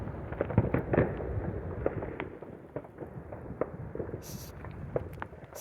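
Fireworks pop and boom continuously in the distance on all sides at night, a dense crackle of many scattered bursts with no voices.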